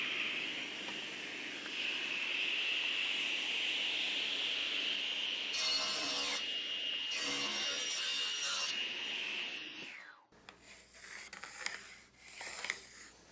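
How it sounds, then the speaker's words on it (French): A hand saw rasps through a wooden workbench vise jaw in bursts of strokes over a steady background hum, followed by softer knocking and handling noises. "je vais juste mettre un coup de scie de chaque côté ici"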